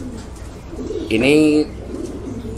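Pigeons bred from racing bloodlines give a single clear, close coo lasting about half a second, rising out of low background noise.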